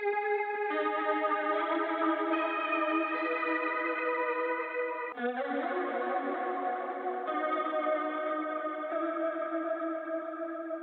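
A dense wash of layered, heavily processed guitar tones with chorus and distortion, holding steady and loud, briefly breaking up midway before continuing.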